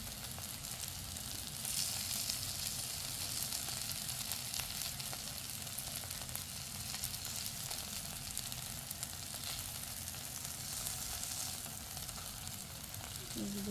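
Chicken tikka sizzles steadily in oil in a pan over a medium gas flame, a dense, even crackling hiss that runs for the whole stretch without pause.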